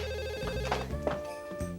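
A telephone on a table rings with a steady electronic trill that repeats without a break, fairly close and clear.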